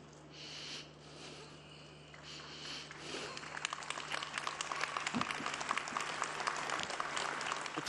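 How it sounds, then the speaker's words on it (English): Crowd applause at an outdoor papal prayer service with Pope Francis, rising from a low murmur into sustained dense clapping that grows louder over the second half, with faint voices mixed in. "The crowd breaking into applause when they realized that the Pope was unable to get through his prayer"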